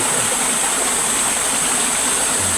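A river stream in a rural village, steady broadband rush of flowing water with no speech over it.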